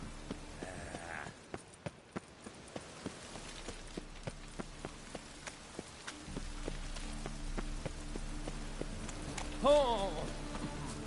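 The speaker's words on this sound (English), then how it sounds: "Looks like rain." Rain patters steadily on a surface in The Witcher 3: Wild Hunt, with sharp periodic tapping like footsteps and a brief tonal effect near the end, all game-like.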